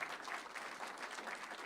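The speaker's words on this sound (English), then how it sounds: "Give them a round of applause" An audience at a high school state-of-the-campus assembly applauds teachers, a steady wash of many hands clapping from a sizable crowd, moderately distant and continuous throughout.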